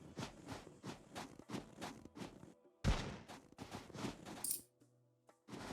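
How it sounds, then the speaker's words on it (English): Rapid gunfire in a hunting video game as bears are shot, quick repeated cracks in fast rhythmic bursts, fairly faint overall, with short gaps and one sharper shot standing out. "Well, I'll start shooting them."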